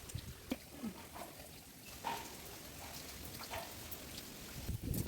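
Steady rain falls outdoors around a house yard where ripe chilli plants grow, a soft continuous hiss with scattered drop taps, fairly faint and with no talking.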